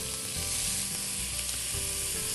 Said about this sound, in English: We got our onions, we got our olive oil, we got them cooking at a medium heat.